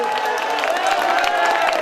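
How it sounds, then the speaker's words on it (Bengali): An audience at a baul music festival gathering claps in a dense patter of applause beneath a sustained tonal voice or music. "হাততালি, হাততালি,"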